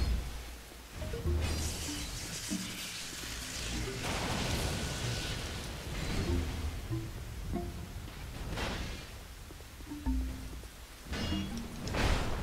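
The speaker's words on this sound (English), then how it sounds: "because it's raining" Rain in the video game Dark Souls 2: a steady hiss of falling rain under game music and effects, moderately faint, with occasional louder bursts and a voice murmuring low in the mix.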